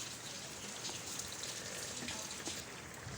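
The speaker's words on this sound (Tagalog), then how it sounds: "Yan ang ulan." Steady rain patters on a surface, a dense hiss of drops with occasional louder splats, fairly soft and continuous.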